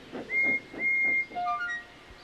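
A steam engine's whistle in an animated railway story sounds three bright, clear toots, the last one shifting pitch in steps, with no talk over it.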